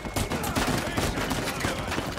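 Rapid gunfire rattles continuously through a firefight in Uncharted: A Thief's End, a dense, loud barrage of overlapping shots with no pause across the short stretch.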